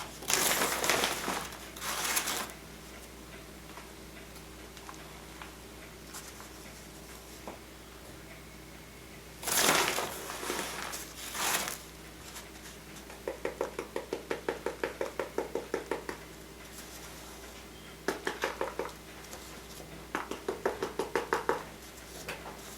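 Potting soil being tapped down around a seedling in a garden pot, loud crunchy bursts of pressing and patting, then runs of quick rhythmic light taps and crumbly rustles, close up with faint talk.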